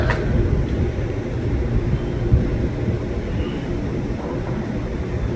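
A KRL commuter train comes into track 1 at Duri station with a steady low rumble and rolling noise that fills the platform, heard up close.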